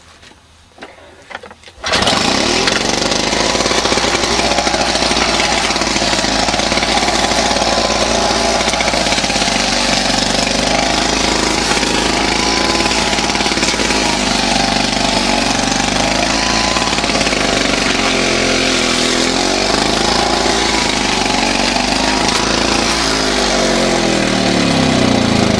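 A Victa Power Torque petrol lawn mower, just repaired after it wouldn't start, roars to life after a brief quiet moment and runs loud and steady while cutting grass, with no talking.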